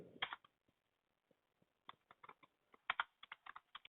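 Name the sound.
typing a Docker command on a computer keyboard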